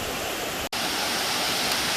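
Steady, loud rush of water from Terrace Falls in the Blue Mountains, heard close up with a momentary dropout partway through before the roar continues.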